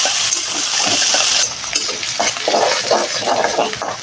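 Onion, garlic and green chili sizzle in hot oil with five-spice seeds in a wok, a steady close frying hiss with soft stirring scrapes and clinks over it, no talk.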